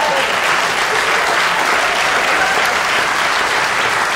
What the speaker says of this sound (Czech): tak to je potlesk pro autora vtipu